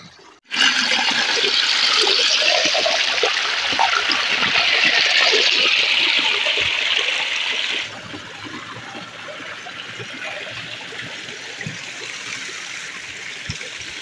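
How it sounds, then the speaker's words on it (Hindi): Rainwater rushing and falling through a forest after a downpour, a steady loud broadband wash that drops to a quieter, continuous flow partway through, with no voices. "आप लोग को तो दिखा दें कैसा गिरता है पानी।"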